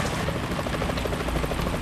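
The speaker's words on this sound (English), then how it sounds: "Is that a chopper I just heard?" Steady rapid thumping of helicopter rotor blades in Metal Gear Solid 2, loud and continuous throughout, with no talking.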